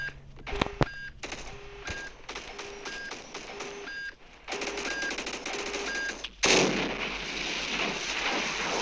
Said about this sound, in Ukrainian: Ядерна бомба!